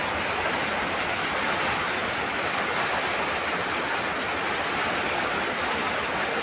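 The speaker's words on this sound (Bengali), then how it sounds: "অনেক সময় ধরে বৃষ্টি হচ্ছে, অবশ্যই মোটেই থামে না।" Heavy rain falls without a break under an overcast sky, a dense and loud steady hiss that holds at the same level from start to finish, with no talking.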